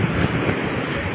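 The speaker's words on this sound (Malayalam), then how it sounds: "നല്ല കാറ്റുണ്ട്" Strong wind roars across the open sea during rock fishing for tuna and bonito near Salalah, a steady, loud rush of gusts and surf buffeting the microphone with no talking.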